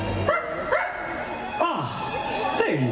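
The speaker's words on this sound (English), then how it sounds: "Where is that dog?" A dog at a Halloween party parade barks and yips four times at a steady pace, with speech running alongside.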